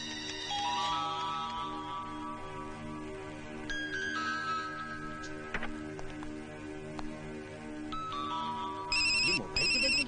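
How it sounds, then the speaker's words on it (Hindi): A mobile phone plays a melodic electronic ringtone, with bright repeating tonal phrases ringing steadily over a hum of background music from a 2004 Hindi action film, and a burst of sharper tones near the end. "ये मोबाइल की बैटरी की आवाज कहां से आई?"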